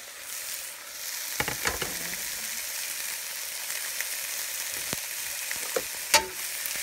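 Mackerel and scrambled egg seasoned with pepper and salt frying in a pan for tortang mackerel, a continuous hiss with sharp spatter pops and stirring scrapes, one loud crackle near the end.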